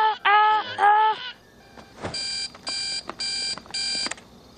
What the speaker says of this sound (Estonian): Kas sul ei ole siis ülitüütut äratuskella,